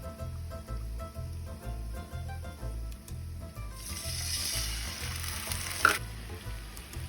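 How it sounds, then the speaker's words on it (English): Half a cup of wine reduces in a pan of mushrooms over medium-high heat, a steady close sizzle and bubbling simmer that brightens and grows louder midway, with a small clink near the end. "Now we're gonna add a half a cup of wine and then increase the heat to medium-high and simmer until the wine reduces"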